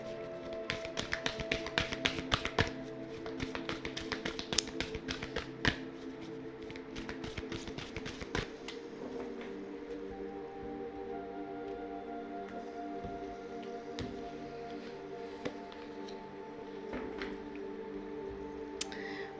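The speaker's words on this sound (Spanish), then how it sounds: "vamos a barajar este maravilloso oráculo" An oracle card deck is shuffled at close range, with rapid riffling taps and flicks dense in the first half, then thinning to sparser soft slides and taps under a low background hum.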